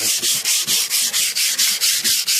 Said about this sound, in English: It's just an easy process of sanding it.